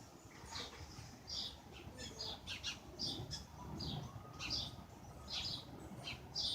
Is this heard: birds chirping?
yes